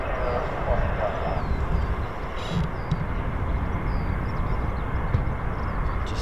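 Continuous broad roar of a US Air Force F-15E military jet engine at RAF Lakenheath, heard from a distance as a steady, dense rumble.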